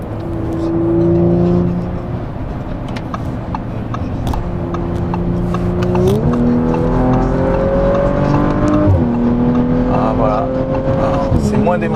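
Biturbo Audi RS5 accelerating hard, a loud in-cabin engine note climbing steadily through several gear changes, with speech over it.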